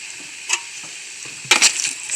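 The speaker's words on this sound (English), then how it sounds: "I'm gonna stir it around." A spoon stirs thick chili with tomato paste and seasoning in a pot, making scattered scraping and squelching strokes, with a louder cluster near the end, close and without talk.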